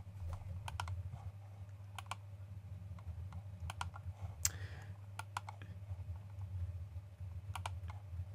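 Keys on a computer keyboard are tapped in short, scattered clusters of light clicks over a low steady hum, fairly close and quiet, with no talking.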